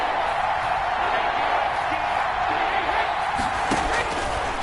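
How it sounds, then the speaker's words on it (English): Loud, steady stadium crowd roar from an NFL video game football broadcast, a dense cheering wash filling the whole stretch with a few sharp bursts near the end. "That just means this crowd's going to get even louder"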